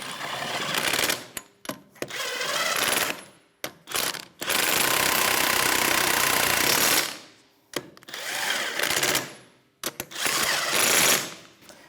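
Rapid rattling bursts of an impact wrench running a 21mm socket onto wheel lug nuts of a 2013-2018 Toyota RAV4 during a rear brake job, loud and close, several long runs separated by brief pauses.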